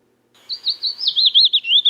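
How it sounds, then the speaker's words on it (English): A mockingbird sample plays alone after a moment of silence. It is a clear, high, warbling run of rapid chirps and trills, steady and close. "it sounds like a regular mockingbird"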